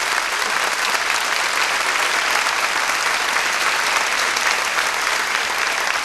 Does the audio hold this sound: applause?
yes